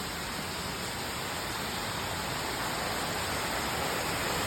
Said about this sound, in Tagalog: Malakas yung agos ang tubig dito.